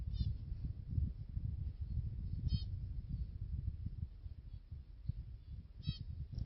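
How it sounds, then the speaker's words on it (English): Faint high chirps from tiny birds nesting in acacias come in a few brief scattered calls over a steady low rumble of wind. "Tiny little birds everywhere"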